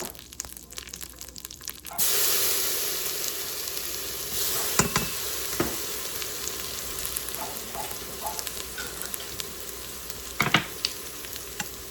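Garlic and Italian seasoning added to a hot pan with tomatoes, bursting into a steady bright sizzle and crackle that jumps up after a quiet start, with scattered utensil clicks and stirring scrapes.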